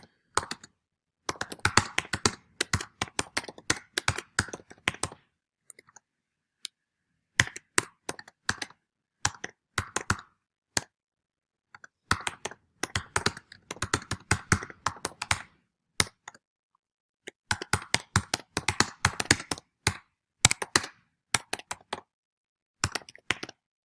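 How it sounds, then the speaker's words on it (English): Fast typing on a computer keyboard while entering webpage text, with crisp clattering bursts of keystrokes separated by brief pauses, close and alone. "And then I'll quickly type out some text to put in here."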